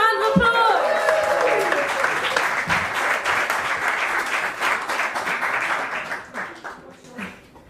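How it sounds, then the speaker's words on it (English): An audience at a poetry slam applauds as a poet takes the stage, loud dense clapping that opens with a whoop or shout, then gradually thins into scattered claps and fades near the end. "Big round of applause"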